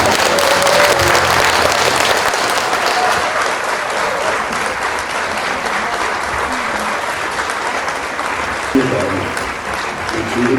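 Audience at a charity concert and signing ceremony applauds to welcome a speaker, a long, loud, dense wash of clapping with voices and faint music underneath.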